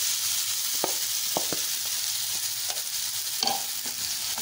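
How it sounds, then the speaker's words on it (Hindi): Spiced marinated beef boti frying over a medium flame in a frying pan, with a steady broadband sizzle and a few sharp utensil taps and scrapes at intervals, no voices. "मैं इसमें फ्राई पैन में बना रही हूँ, आप लोग बारबेक्यू भी कर सकते हैं। इसको मीडियम फ्लेम पे थोड़ा हम इसमें पकाएंगे अच्छे से।"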